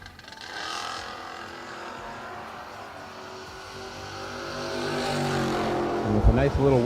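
A drag race car launching off the starting line with a little wheelie, its engine building to a loud roar toward the end of the run, heard under announcer commentary.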